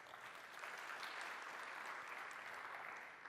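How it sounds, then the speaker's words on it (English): Audience applause at a tech conference talk on building apps for Microsoft Teams, a steady wash of clapping from a crowd, fairly faint and distant, lasting a few seconds. "I wasn't expecting this much applause"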